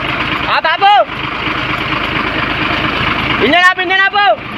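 A broken-down lorry's engine idles on the road, a steady close rumble running throughout while a man calls out twice over it.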